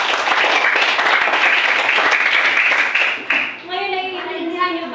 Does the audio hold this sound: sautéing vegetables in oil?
no